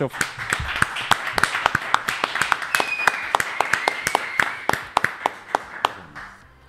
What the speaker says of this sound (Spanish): pido un nuevo fuerte aplauso para el Tata